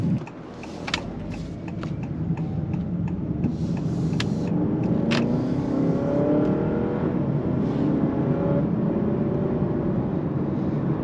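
A 2023/2024 Honda Accord Hybrid Touring accelerates while its CVT simulates gear shifts, heard from the cabin as a loud steady engine drone that climbs in pitch, dips and climbs again, with no talking.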